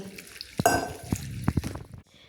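Fresh fenugreek leaves are swished and rinsed by hand in clean water in a kitchen, with close, irregular splashes, drips and sloshing that fade toward the end.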